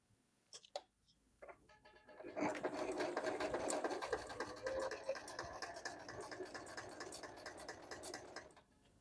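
A Singer M3335 household sewing machine stitches a straight seam with a shortened stitch length, starting with a few clicks and then running in a fast, even mechanical chatter at close range before stopping abruptly.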